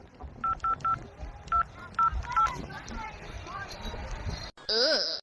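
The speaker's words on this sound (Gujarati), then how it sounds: "ફોન લગાડી શેઠને." A run of telephone keypad tones as a phone number is dialed, the beeps spaced irregularly over a busy indoor background with voices, followed by a loud ringback tone at the end.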